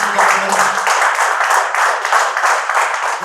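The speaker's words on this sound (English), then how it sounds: "A huge round of applause, ladies and gentlemen." Audience applause at a darts championship closing ceremony, a dense, steady round of clapping from a crowd that holds at an even loudness throughout, with no pauses.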